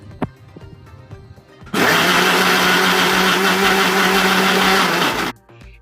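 A mixer grinder whirs loudly as it grinds raw green tomato chutney with salt, a steady motor roar running for about three and a half seconds before cutting off, preceded by a few light clicks.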